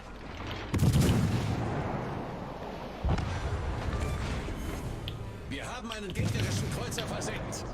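Front turret guns of the German cruiser Weimar firing in World of Warships Legends, loud booming salvos at about one, three and six seconds over continuous battle rumble, with voices talking alongside.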